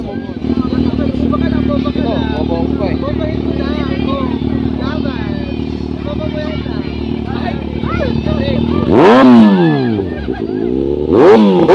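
A big bike motorcycle engine warming up, a steady throaty idle building into sharp revs toward the end, with people chattering and talking over it.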